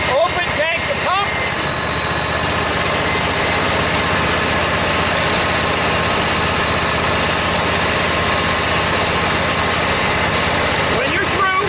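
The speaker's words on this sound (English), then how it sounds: "Did you hear the change in the pump?" A small engine-driven water pump runs steadily at idle, a continuous even drone with a faint vibrating buzz that holds from start to finish, with brief voices near the beginning and end.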